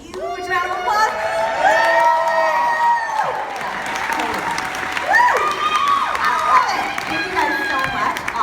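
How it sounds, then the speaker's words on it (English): Loud applause from an audience fills the space, with cheering, whoops and shouted voices rising over a continuous wash of clapping that runs throughout. "would you guys give them a huge round of applause?"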